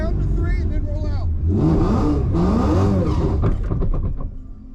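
A manual-transmission Mustang rolls out at a stick shift trials event, its engine note rising in pitch as it accelerates, with voices talking over the start before the car moves away and fades.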